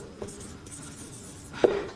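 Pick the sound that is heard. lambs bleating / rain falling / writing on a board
writing on a board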